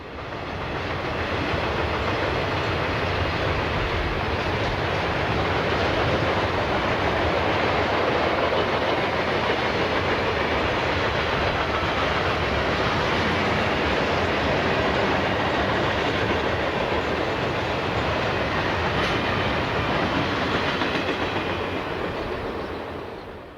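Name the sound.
Norfolk Southern train led by GE C39-8 diesel locomotive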